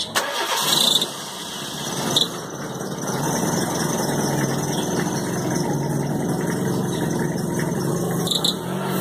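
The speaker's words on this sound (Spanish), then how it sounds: "encender el vehículo, vamos a ver qué reacción tiene" A Kia Rio car engine cranks and starts, then settles into a steady, fairly loud idle that runs to the end with no talking.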